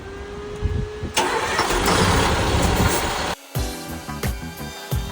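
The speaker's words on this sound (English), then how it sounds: "We're going to start the truck to replenish that air again." LMTV military truck engine cranking and firing up, a short burst of starter noise before a loud diesel catches, then settles into a rough, rumbling idle.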